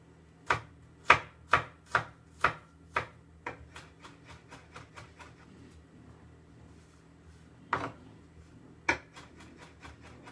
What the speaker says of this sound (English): I'm going to chop this garlic as fine as possible